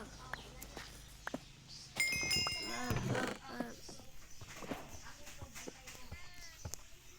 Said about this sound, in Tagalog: kabayo pala yan. Zombie na kabayo.